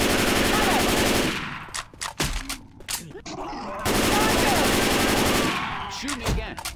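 Bursts of automatic gunfire from the video game Left 4 Dead 2, two long loud volleys separated by scattered single shots and clatter, with voices briefly in between.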